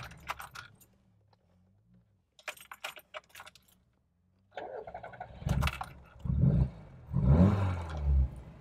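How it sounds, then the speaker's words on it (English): Keys jangle, then a Lada Riva VAZ 2105 with no choke cranks and its engine catches, rising into a rough, loud idle with surging revs. "So let's get the car started up so you can hear how she sounds."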